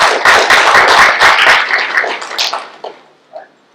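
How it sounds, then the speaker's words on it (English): A room of people applauding promoted police officers at a department promotion and recognition ceremony, dense steady clapping that thins out and fades over the last second, with a few stray claps at the end. "Let's give a round of applause for our promotion"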